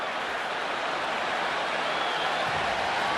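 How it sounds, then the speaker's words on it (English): Football stadium crowd at a Texas Tech versus Texas Longhorns game giving a standing ovation, a dense, even wash of distant cheering and applause holding steady throughout. "A standing ovation after two incompletions."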